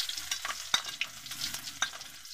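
Onion frying in a pan alongside garlic for a spicy frog adobo in coconut milk, a close sizzle with intermittent sharp scrapes and taps of stirring.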